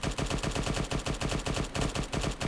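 Automatic weapon fire in the military shooter ARMA 3: rapid, evenly spaced shots in continuous bursts, loud and close, with a short gap partway through before the firing resumes.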